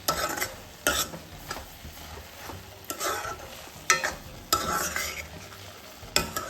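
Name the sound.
stirring carrot halwa with milk, ghee and sugar in pan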